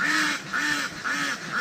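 Ducks on a duck farm quack in a repeated, rhythmic chorus of nasal calls, three or four in quick succession, loud and close, with no human voices.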